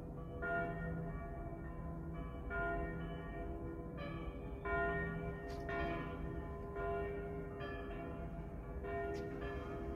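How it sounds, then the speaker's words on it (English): Church bells ring continuously from a clock tower in Umbria, with overlapping resonant tones, layered strikes swelling and fading over a steady ringing hum. "So much bells here."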